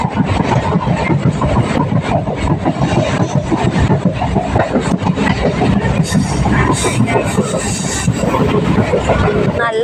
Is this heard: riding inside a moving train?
yes